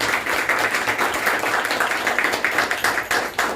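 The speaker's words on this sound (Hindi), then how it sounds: "ये जो तालियां बजा रहे हो ना" An audience at a motivational class claps steadily, a dense patter of many hands close by that keeps going from start to finish with no talk over it.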